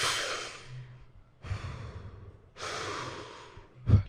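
A voice imitates a strange breath-holding breathing technique with three long, forceful exhales and inhales, close and breathy, ending in a short snort-like puff.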